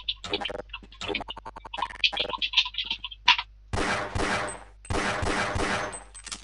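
Gunfire from the revolver in Half-Life: Blue Shift, a game with no sniper rifle, where it serves for long-range kills: sharp shots and clicks come first, then two longer, dense bursts of rapid fire.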